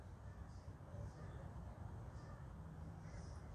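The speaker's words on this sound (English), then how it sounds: "Crow! Look at that crow." A crow caws a few times, faint and distant, over a steady low background rumble.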